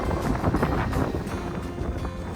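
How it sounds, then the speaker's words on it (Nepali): Gusty wind buffets the microphone in rough, uneven bursts, loud and close, with no voices. "बाहिर त यस्तो विन्डी रहेछ"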